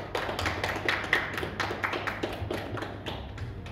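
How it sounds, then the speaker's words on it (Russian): Wedding guests at a marriage registration ceremony in Stavropol clap together steadily, a moderate, evenly paced patter of many hands close by, with a low hum underneath. "Уважаемые гости, аплодисменты, пожалуйста."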